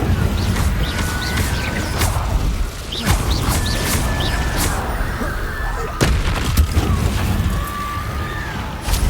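Incendio fire spells cast repeatedly in the video game Hogwarts Legacy, with sharp whooshing bursts and crackling blasts recurring every second or two over busy background game sound.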